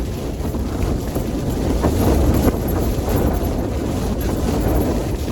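Strong gusting wind buffets a Hilleberg Soulo tent pitched at a summit camp on Creag nan Gabhar in rain, a steady loud roar with rising surges and flapping rumble close around.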